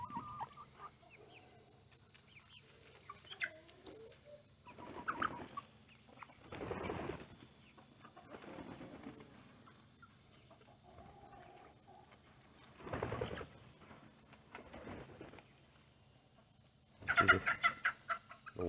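Soft, scattered hen clucks and bird calls with short bursts of rustling or flapping, fairly quiet against a low background hum.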